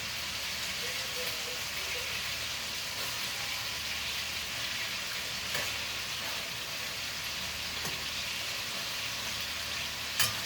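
Beef browns in a hot pan for a braise, giving a steady, dense, rain-like sizzle and crackle with occasional sharper pops, close and continuous throughout.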